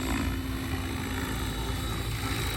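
A Synergy 696 RC helicopter on a 12s setup flies backwards at about 65% throttle, giving a steady, loud, close rotor and motor drone with a constant whine and no pauses.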